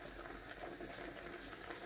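Lamb sizzles and fries in a pan, a steady close crackle with a watery, bubbling hiss and no talk.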